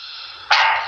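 A pet dog gives a single short, loud bark nearby, cutting in over a steady background hiss.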